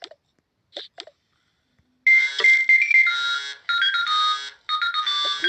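A few faint clicks, then a loud electronic ringtone-style alarm melody from a Toca World video game plays in bursts, bright and synthetic, with brief pauses between phrases.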